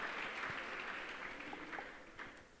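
An audience claps together in a steady patter of many hands, quiet and somewhat distant, holding level for a couple of seconds before tapering slightly, with no speech over it.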